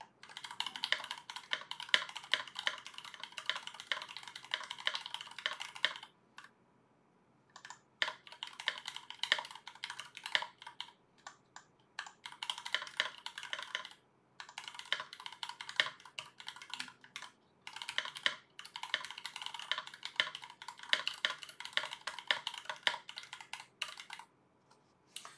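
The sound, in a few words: typing on RAMA M60-A mechanical keyboard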